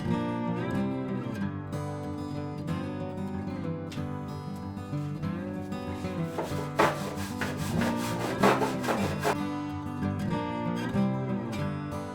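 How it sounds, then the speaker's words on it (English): Stiff brush with Simple Green scrubbing rust and undercoating on a Porsche 911's metal, repeated rasping strokes up close, with a sustained tonal hum running underneath. "I did put some simple green in the stiff brush just to get some of the undercoating down here a little bit cleaner"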